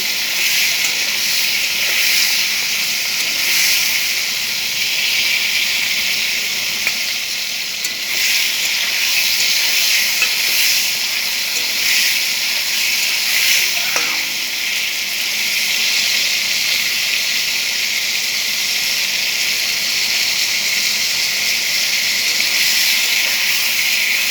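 Pointed gourd (potol) fries lightly in a pan, giving a loud, even hiss of oil that runs unbroken for the whole stretch, with no speech.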